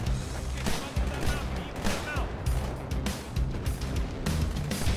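Gunfire in the first-person shooter Halo 2, dense continuous shooting and explosive thuds layered over a busy, loud game soundscape.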